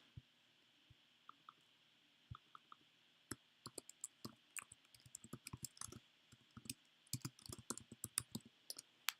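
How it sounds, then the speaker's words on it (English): Keys tapped on a computer keyboard while entering a map marker name, quiet irregular clicks that start sparse and thicken into a steady run of close keystrokes with no talk. "and then we'll type."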